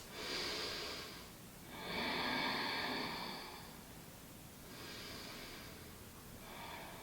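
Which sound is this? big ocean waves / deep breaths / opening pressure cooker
deep breaths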